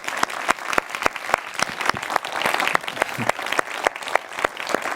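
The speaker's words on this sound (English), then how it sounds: "I'd like you to give a big round of applause" Conference audience at a cultural heritage event applauding, dense clapping sustained throughout with sharper individual claps standing out near the front, steady and fairly loud.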